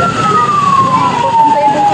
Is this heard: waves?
no